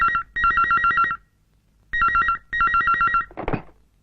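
A telephone rings loudly and alone in a Telugu film scene, two pairs of electronic trilling bursts separated by a short pause, followed by a brief rustling clatter as the receiver is picked up.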